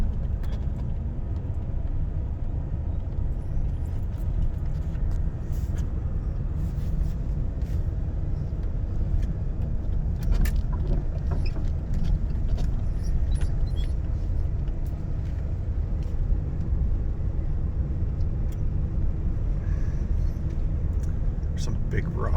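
A car drives slowly along a narrow, snowy road with big rocks and washed-out patches, its steady engine rumble and tyre noise continuous and close throughout, with scattered crunches and knocks over the top.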